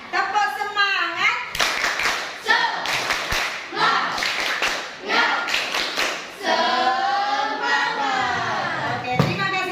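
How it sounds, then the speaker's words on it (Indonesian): An elementary school class of children joins in a rhythmic clapping cheer, bursts of sharp hand claps mixed with children's shouted chanting and a teacher's voice, loud and close throughout. "Supaya semangat kita tepuk semangat dulu ya."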